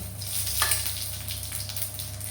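Dried red chilies frying in hot oil as a tempering for a pumpkin fry dal, a steady close sizzle with brief crackling bursts and no talk.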